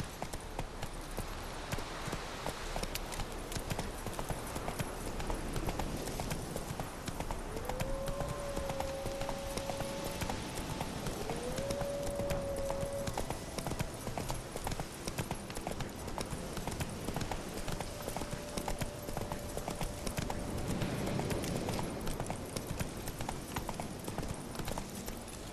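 A horse gallops in Witcher 3, a steady rapid clip-clop of hooves running continuously throughout, with a few brief neigh-like tones in the middle.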